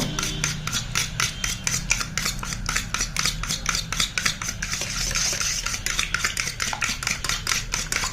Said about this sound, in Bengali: আরেকবার এই সমস্ত উপকরণগুলোকে ফেটিয়ে নেব